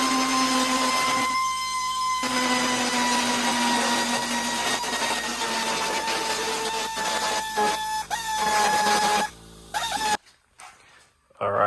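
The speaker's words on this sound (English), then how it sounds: "I'm just gonna grind some of the paint off this metal here so we can begin the cutting and welding" An angle grinder strips paint from the bare metal of a car's rear quarter panel during a widebody kit install, a steady high whine running nearly continuously with short dips before stopping near the end.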